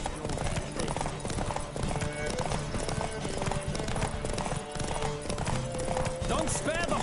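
Hooves of a horse galloping in a race in The Witcher 3 drum steadily and close, a dense continuous clip-clop with occasional snorts and shouting riders layered over it.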